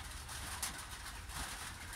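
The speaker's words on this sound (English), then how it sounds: "birds chirp away" Birds call faintly in the distance, including soft dove-like coos, over a steady wash of rain and background hiss.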